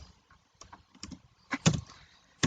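Typing on a computer keyboard for Python coding, heard as a short, irregular run of close clicky keystrokes, a few louder key hits standing out, with no talk.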